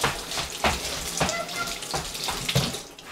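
Water runs from a kitchen tap while something is washed in the sink, a soft steady splashing with faint irregular clinks, fairly quiet and close, with no talking.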